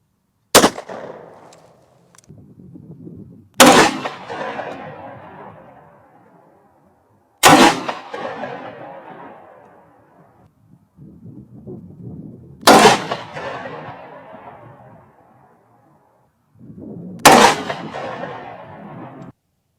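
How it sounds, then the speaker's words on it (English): Shots fired into a ballistic helmet ring out alone as five loud, sharp cracks spaced a few seconds apart, each followed by a short decaying rumble and clatter. "put 3 rounds across the side, and we'll do the same reveal on ours"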